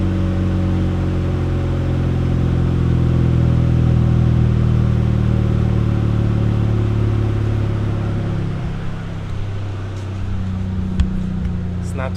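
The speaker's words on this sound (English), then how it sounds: "Ooh, you hear that turbo?" A steady engine drone from an FL5 Honda Civic Type R with a turbo and an AWE Touring exhaust, a low hum that dips near the end under some light talk.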